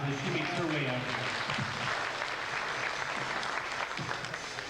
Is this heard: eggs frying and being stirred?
no